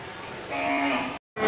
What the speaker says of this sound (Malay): ini masih banyak sapi-sapi yang dibawa masuk oleh juragan